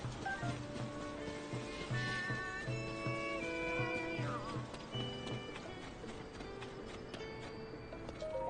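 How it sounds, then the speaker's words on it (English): Horse hooves clip-clop steadily in The Legend of Zelda: Tears of the Kingdom, a moderate rhythmic trot beneath continuous game music with faint neighing. "let's take our horse"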